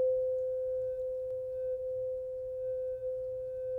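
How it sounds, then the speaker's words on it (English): A steady, pure sine tone from a tone generator holds at one pitch throughout, fairly quiet and unwavering, with no voices. "It just generates a particular tone of a particular frequency."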